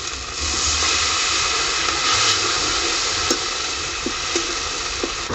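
Water poured onto ginger and cumin paste in a hot pan for a fish curry sends up a loud, steady hiss of sizzling steam. A few faint clicks from the pan sound beneath it.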